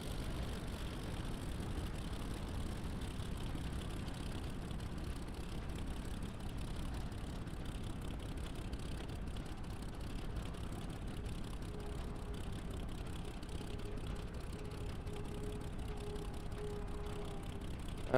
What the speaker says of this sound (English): I'm bringing my aircraft to a halt, switching off the engine and opening the canopy.